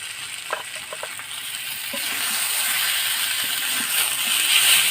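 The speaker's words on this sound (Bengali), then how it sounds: "মশলাটা ভালো করে ভাজা হয়ে গেছে" Spice paste with turmeric fries in oil for a silver carp fish curry, a steady crackling sizzle that grows slightly louder, with a few faint clinks and stirring knocks early on.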